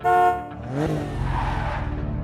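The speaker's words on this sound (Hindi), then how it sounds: "अचानक से कार के हॉर्न की आवाज आई।" A single short car horn toot rings out, followed by the rumble and whoosh of a car moving close by.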